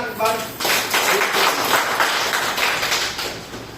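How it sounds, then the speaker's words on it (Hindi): A crowd claps for an Ayurveda organization at a corporate presentation, a dense, steady patter of many hands lasting several seconds at moderate loudness. Voices murmur underneath. "तो जोरदार तालियां"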